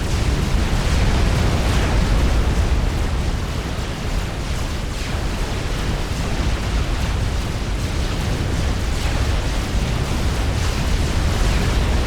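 Explosions roll on continuously as point defenses are destroyed in a Supreme Commander Forged Alliance battle, a dense, loud rumbling barrage with no pauses and no speech.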